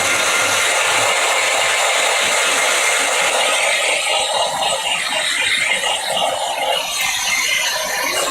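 A heat tool blowing hot air over decoupaged rice paper, a loud, steady whooshing roar that runs without a break throughout.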